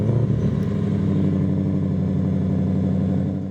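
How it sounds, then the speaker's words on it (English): Deep, steady V8 exhaust drone from a Ford F-150 Raptor R pickup, held loud and close for a few seconds with no talking. "you really want to be able to take that powerful V8 engine and you want to be able to hear it"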